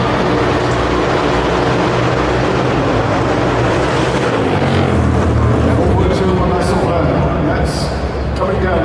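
A 1200 Scrambler motorcycle engine revs hard up to its limiter at a London motorcycle show, a loud, dense, sustained roar filling the whole stretch, with voices talking over it.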